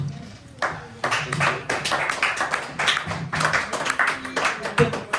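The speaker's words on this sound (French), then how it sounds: "On continue de l'applaudir" Applause from a conference audience at an event on African development, a broad stretch of dense, uneven clapping that swells and dips for several seconds, with bursts of stronger clapping and a voice briefly audible underneath.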